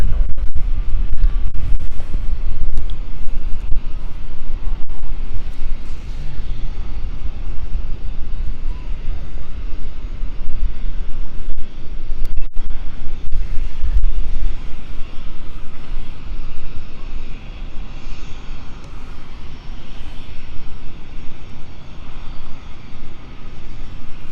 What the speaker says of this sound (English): This is our Globe Air 108, ready for departure now, going to Nice. Clear for takeoff, here we go.